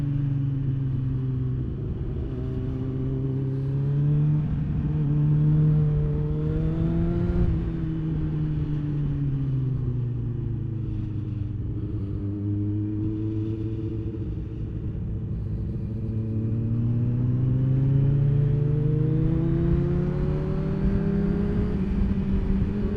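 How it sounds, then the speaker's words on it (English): Drift car engine revving hard and continuously, its pitch rising and falling through repeated throttle blips before the throttle shuts straight down, close and loud with no talking. "You can just hear the throttle shut straight down."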